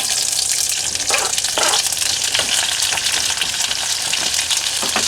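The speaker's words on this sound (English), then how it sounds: "I reckon that's hot enough to get the onions in." Onions hit a hot pan and fry with a loud, steady sizzle that fills the whole stretch, with occasional stirring scrapes breaking through and no talking; cooked aboard a moving tour bus while making spiced-up ramen.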